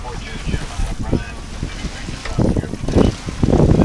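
Wind rushes across the microphone aboard a sailboat on San Francisco Bay, a loud, buffeting low rumble with gusty surges, heard close throughout alongside indistinct talk.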